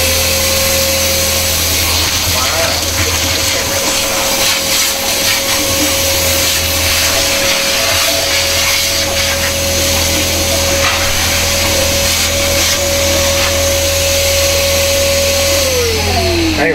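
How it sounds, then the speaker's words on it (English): A small shop vac runs steadily and loudly alongside generators, a constant roar with a steady hum that drops in pitch near the end as a motor winds down, with no talking over it. "now I'm fixing to kick on this little shop vac"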